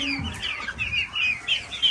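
Chickens cluck repeatedly in a short, busy burst, with a rooster among the fowl; the calls come in quick uneven bursts at close range with no talking.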